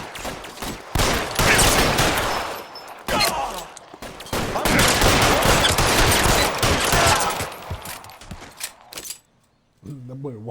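Gunfire rattles through a shootout in the crime video game L.A. Noire, loud dense bursts and volleys over about nine seconds with short pauses, then dropping away as a voice speaks at the end.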